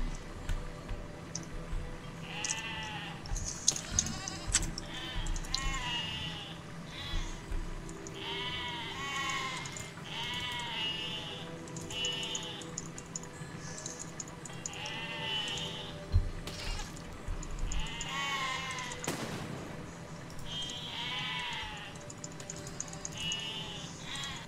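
Repeated sheep bleats in the game Besiege, several overlapping calls spread across the scene at a steady pace over low background noise, some near and loud, others fainter.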